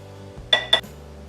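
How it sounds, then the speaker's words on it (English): A utensil stirs dry ingredients in a mixing bowl, making two quick, close clinks against the bowl's side amid near-quiet. "you'll want to give that a quick stir before we add the wet ingredients"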